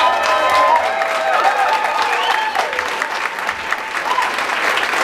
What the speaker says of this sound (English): So that's a round of applause for Saskia.